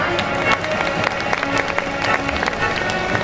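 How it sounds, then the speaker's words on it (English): An audience at a school prize ceremony applauds steadily, a dense wash of clapping hands that holds at an even level from start to finish with no voices over it. "I request you all to please continue clapping"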